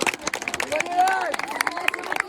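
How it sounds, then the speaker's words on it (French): Audience clapping for a runner at a school cross-country race, a dense patter of claps that fills the short moment, mixed with voices and crowd chatter. "On l'applaudit s'il vous plaît"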